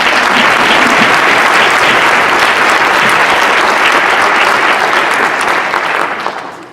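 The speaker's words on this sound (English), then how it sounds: "So please join me in giving the Olentangy Education Foundation a round of applause." A conference audience at the 2019 ONE COMMUNITY event for Olentangy Local Schools bursts into sustained, dense applause, loud and close throughout, easing slightly as it fades out at the end.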